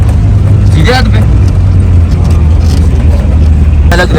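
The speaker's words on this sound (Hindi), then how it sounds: "और रास्ता देखो, जीप चल रही है" A jeep driving along a mountain road near Saiful Malook Lake, heard from inside as a loud, steady engine drone with road rumble and rattles, while people speak briefly over it.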